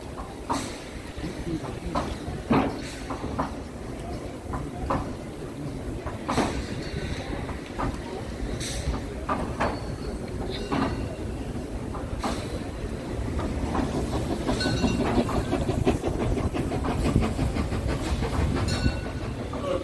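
Steam locomotive at a steam locomotive meeting in Dresden, a steady rumbling rolling run with scattered clanks and sharp knocks over about twenty seconds, growing somewhat louder and denser toward the end.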